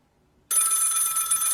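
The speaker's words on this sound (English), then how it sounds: "Oh. Okay. I guess we're getting a phone call." A telephone bell suddenly starts ringing during a news talk show and keeps ringing loudly and steadily after a brief silence.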